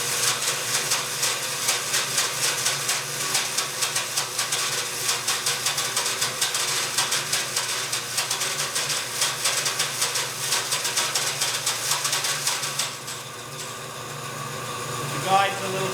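A 1935 Speedxa bandsaw runs at 3,500 speed with a steady mechanical hum and rapid rhythmic fluttering from the moving blade, close by and continuous, dropping off near the end.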